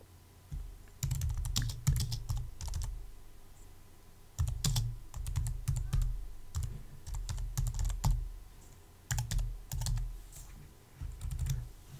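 Someone types on a computer keyboard, entering a description for a playlist; quick runs of soft key taps come in bursts with short pauses, close and fairly quiet, with no one talking.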